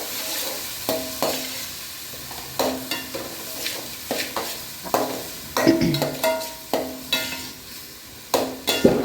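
Crushed onions fry in a pan as the base for a fish curry, with a soft constant sizzle under regular scraping strokes of a spoon against the pan, close up and without speech.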